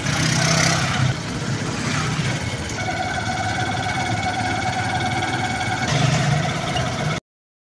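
A motorized vehicle's engine drones steadily during a ride, with a mid-pitched hum and some vibration, loud and continuous with no talking.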